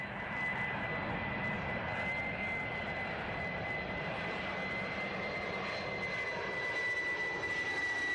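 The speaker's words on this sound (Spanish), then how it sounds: "incluso los jets más modernos generan una gran cantidad de ruido" A jet aircraft engine roars steadily, a loud continuous whine and rumble with a high tone running throughout.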